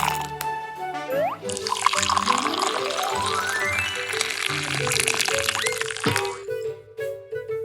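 Water pouring into a pot for boiling macaroni, a steady splashing fill whose pitch rises as the pot fills, then a brief clatter at the end, with no speech.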